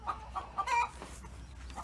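Laying hens cluck close by in a Feathernet mobile hen structure on pasture, a few short bright clucks in quick succession, then quieter.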